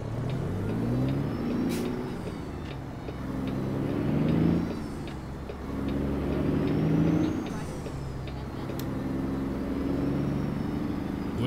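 A heavy truck engine in American Truck Simulator drones loudly and steadily, rising and falling in repeated revving cycles as it shifts through gears, with a brief air-brake hiss.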